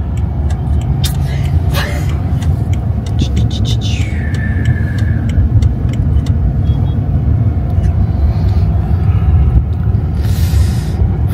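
A car driving on a rough road, heard from inside as a loud, constant low rumble and road noise with occasional knocks, while people talk throughout.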